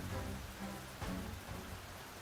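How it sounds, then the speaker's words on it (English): Steady rain in a video game (Invitation To Wine), hissing and pattering, a soft continuous wash of drops with faint low rumbling underneath, no voices. "A drizzle of spring rain?"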